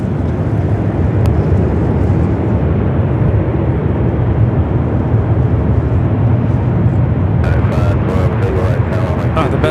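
A jet aircraft's engine blast roars loud and steady at LAX, a dense broadband rumble filling the whole stretch, with brief higher gusts near the end.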